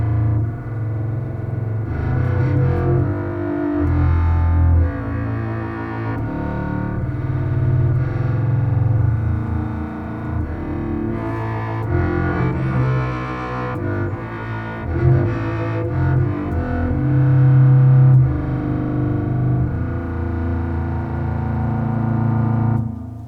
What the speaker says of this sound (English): And we have some nice bass tones.